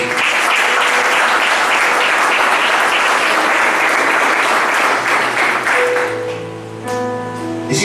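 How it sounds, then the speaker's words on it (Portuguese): Sustained applause from a church congregation fills the room at full volume, then thins toward the end as organ or keyboard chords rise and take over. "Aplauda o Senhor nessa noite."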